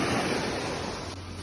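Waves wash over smooth sand on Jomalig Island, Philippines, in a steady, hissing rush that fades slightly toward the end, with no voices.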